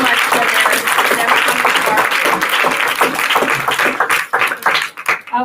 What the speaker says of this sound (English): could we do a round of applause, please, for them?